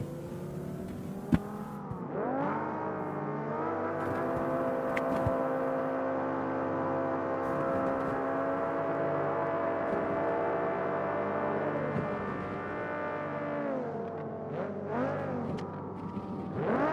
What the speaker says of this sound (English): Drivers prematurely revving their engines.